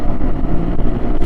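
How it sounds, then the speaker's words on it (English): A scooter fitted with a big, fat exhaust system passes close by, its loud, continuous engine drone filling the whole moment. "Motorbike, it's not a motorbike, it's a scooter."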